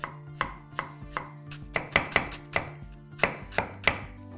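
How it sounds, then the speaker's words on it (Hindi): Knife chopping cabbage on a cutting board in a kitchen while preparing hot and sour vegetable soup, a steady run of sharp, close taps with no talking. "गोभी को ऐसे टेढ़ा पकड़ें और ऐसे ऐसे काटते जाएं।"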